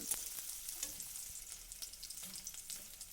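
Small pieces of onion sizzle in a hot pan, a continuous crackling fry with scattered light scraping ticks from stirring, heard alone and close.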